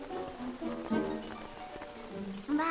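Steady rain falls in an animated Strawberry Shortcake cartoon, a continuous soft hiss under brighter tonal sounds that rise and fall across the scene.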